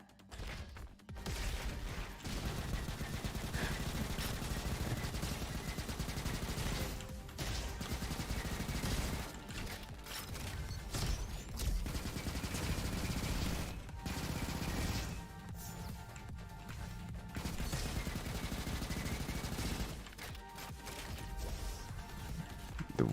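A wind-up rifle in Roboquest fires at a very high rate, making a dense, continuous stream of mechanical gunfire. The bursts pause briefly a few times and then resume.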